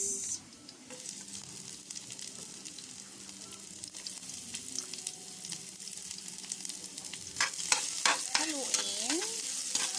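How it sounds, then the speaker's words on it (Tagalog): Onion, garlic and ginger fry in a pan while being stirred: a steady close sizzle broken by repeated scraping strokes, which grow louder and busier toward the end. "Haluin ang sibuyas, bawang at luya."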